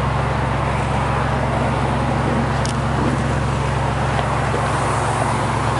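A 1965 Ford Mustang convertible's 289 V8 with automatic transmission idles in a steady, even rumble, close and continuous throughout, with no talk over it.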